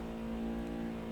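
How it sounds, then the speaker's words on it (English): Neighbours drilling nearby, a steady droning whine with a strong sustained tone, constant and fairly loud throughout, with no speech. "The neighbors are drilling."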